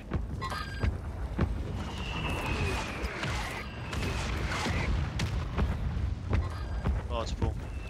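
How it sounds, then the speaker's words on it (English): Mortar strike explosions in the Warzone battle royale game land near a prison: a series of heavy booms and blasts with rumbling debris and a whistling streak, under scattered game noise and some speech. "Mortar strike is out."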